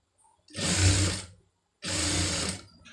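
Two bursts from a sewing machine stitching thread piping, each about a second of steady close whirring with a short pause between and a brief start at the end.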